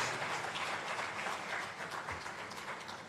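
Steady, moderately soft applause from a conference audience for a speaker taking her seat, an even wash of many hands clapping without pause.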